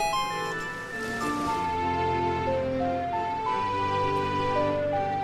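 A clear melodic ocarina tune plays in Zelda: Ocarina of Time, notes stepping up and down in a bouncy waltz-like rhythm over soft backing, with no talk.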